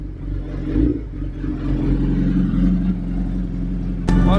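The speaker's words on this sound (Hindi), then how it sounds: "ये 3 महीने 10 दिन से खड़ी है ये बाइक, डिसकनेक्टेड बैटरी, और फर्स्ट बटन में एकदम नॉर्मल स्टार्ट हुई है" A Suzuki Hayabusa motorcycle, left standing for over three months with its battery disconnected, idles loud and close with a throbbing engine note and a slight rev.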